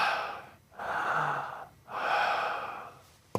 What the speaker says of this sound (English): We played the audio tape back, and we hear deep breathing.